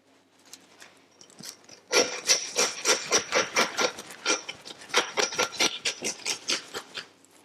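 A saw rasping back and forth through wild boar ribs, a quiet start followed by a rapid run of about twenty rhythmic strokes, close and crisp with no voices.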